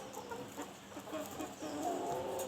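Chickens clucking inside a coop being cleaned, a faint, continuous murmur of low clucks and soft calls from several birds over background noise.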